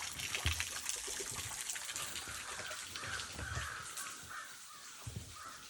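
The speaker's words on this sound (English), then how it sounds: "Just a little waterfall." A small waterfall trickles and splashes steadily over rock beneath a little footbridge, a continuous close wash of water with crows cawing now and then.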